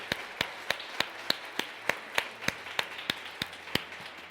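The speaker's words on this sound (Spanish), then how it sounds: "ese aplauso es para Dios" Within a church service, a congregation claps in slow, even unison. About a dozen crisp, evenly spaced claps ring out in a steady rhythm, moderately loud against quiet room tone.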